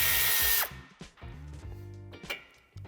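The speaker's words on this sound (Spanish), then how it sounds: "Quitaremos la tuerca que la sujeta." A power tool spins off the nut holding a car antenna on a 2013–2017 Škoda Octavia Combi III, one loud whirring burst at the start followed by quieter clicks and short mechanical whines close by.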